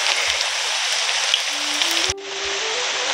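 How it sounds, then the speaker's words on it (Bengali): Heavy monsoon rain pours down steadily outdoors, a dense close hiss of drops on surfaces that continues throughout with a brief dip near the end. "আরো জোরে এলো বৃষ্টি।"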